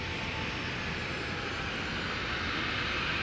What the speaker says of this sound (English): Big Virgin coming in here, wide body jet